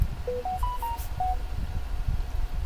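A phone notification chimes nearby, a short rising run of bright tones followed by a single held note, over a faint murmuring background.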